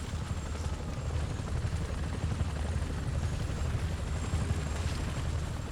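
A helicopter in the video game Ghost Recon Advanced Warfighter 2 gives a steady, loud, rumbling rotor thrum that dominates throughout, with low booming noise beneath.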